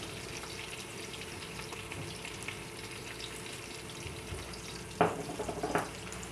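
Garlic going into browned onions in hot oil for a Punjabi chicken pulao, giving a steady low sizzle throughout, with a couple of louder clatters and bursts near the end.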